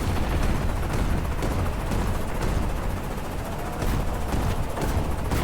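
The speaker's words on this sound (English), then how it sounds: "you can get an idea of how much the island hasn't been cleared by the amount of ground fire coming up" Dense ground fire in an island battle in a video game, a continuous loud barrage of overlapping gunshots and booms with no gaps, sustained throughout.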